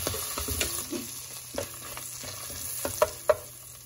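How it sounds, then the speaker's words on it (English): Cloves, bay leaves, cardamom and red chili frying in a pan for paneer butter masala, a soft steady sizzle with a few sharp pops and light stirring clicks near the end. "saute it a bit."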